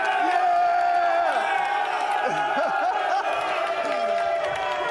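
A large crowd cheers and whoops continuously around the final table of the 2023 World Series of Poker Main Event, a loud, dense roar with voices rising and falling throughout.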